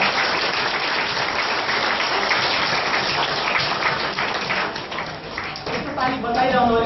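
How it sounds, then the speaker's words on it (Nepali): A seated audience claps together at length, dense and steady, thinning briefly toward the end before swelling again, with a voice surfacing over the last moments. "एकचोटि फेरि ताली बजाउने हो।"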